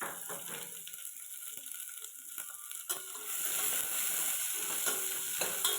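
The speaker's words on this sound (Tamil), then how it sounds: "5 பச்சை மிளகாய் கீரி அதையும் போட்டு வதக்கிக்கலாம்." Onions and green chillies sauté in a pan with a soft, close sizzle, broken by scraping stirs of a spatula. The frying hiss swells louder midway and continues steadily, with no voices.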